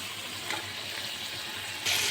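Bananas hiss and sizzle as they are tossed into hot spiced oil in a pan, a steady close-up crackle that swells suddenly louder near the end.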